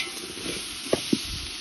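Garlic paste mixture stirred in a hot pan for a festival dish: a steady soft sizzle with two brief scraping knocks of the spoon, fairly quiet and with no talk.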